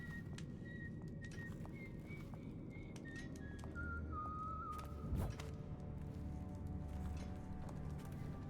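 A whistled tune from the Dishonored video game, a series of clear pitched notes rising and sliding over a busy, steady game soundscape with hooves or footsteps, and a brief louder thump near the middle.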